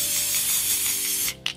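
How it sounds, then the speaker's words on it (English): Spray paint hisses steadily and loudly from an aerosol can onto a ceramic tile ornament in a garage, in one continuous burst that cuts off near the end, followed by a brief clatter. "I'm just going to give it a really good spray."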